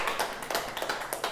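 Congregation clapping in a church in Wonju after a prayer, a steady run of dense, overlapping hand claps with a rhythmic beat, moderately loud throughout.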